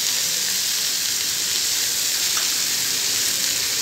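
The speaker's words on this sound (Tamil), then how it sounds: "இது வந்து ஒரு நிமிஷம் ஃப்ரை ஆனால் போதுங்க" Mushrooms frying in a pan for a sandwich filling, a continuous even hiss of sizzling with no talk, steady and fairly loud throughout.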